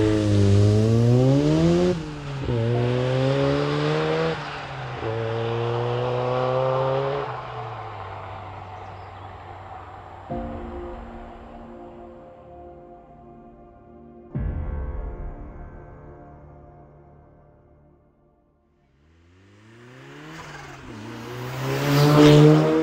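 A Ford Sierra Cosworth 2wd is driven hard, its engine revving up through rising pulls and gear changes, then easing off to a quieter drone before climbing again near the end, loud and close with no talk.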